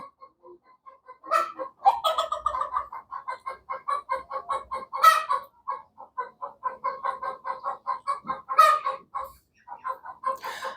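Egyptian laying hens cluck continuously nearby on a rooftop poultry farm in a busy, rapid chatter, with occasional louder squawks rising above the steady rhythm.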